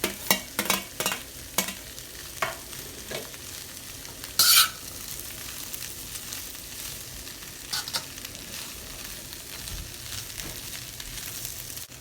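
Black chickpeas and onion stirred together in a pan for a spicy Sri Lankan-style sundal, with scattered spoon scrapes and clicks over a faint, steady background, and one louder scrape near the middle.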